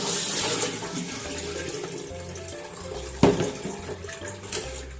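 Plums, a kilogram batch for jam, rinsed under a running kitchen tap: a steady splashing water stream with occasional louder splashes and handling clunks, close and continuous.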